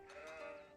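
A single sheep bleat in the strategy game Age of Empires 4, a short wavering tonal call, faint and alone.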